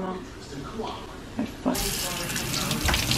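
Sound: beer being poured for a michelada

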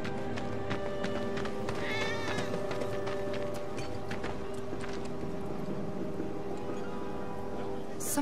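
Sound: cat meowing in video game Final Fantasy VII Remake

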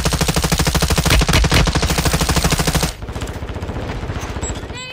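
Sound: gunfire in Warzone 2 video game

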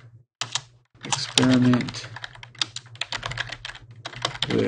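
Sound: typing on a computer keyboard

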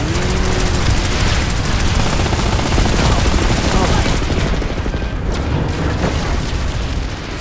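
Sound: landmine explosion in video game Planetside 2

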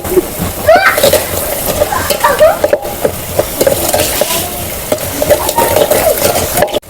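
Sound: sizzling while adding vegetables to fried chutney masala on a wood stove

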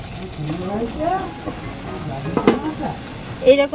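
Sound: frying raw flattened rice (chira) in hot oil

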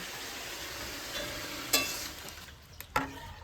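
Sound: mutton sautéed with turmeric in a pan

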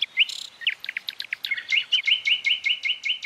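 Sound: nightingale singing

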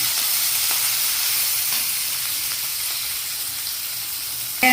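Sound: onions frying with fennel seeds in oil

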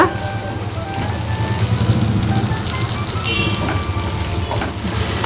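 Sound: cumin seeds frying in oil for paneer masala

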